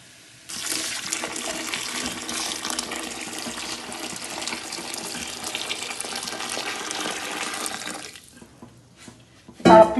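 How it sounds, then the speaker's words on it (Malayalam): Boiled water poured steadily into a pot of Kerala-style lime pickle, a continuous splashing gush lasting about eight seconds before stopping abruptly, followed by a brief clatter. "ഇതിലേക്ക് ഞാൻ തിളപ്പിച്ച് വെച്ച വെള്ളം കൂട്ടുന്നുണ്ട്."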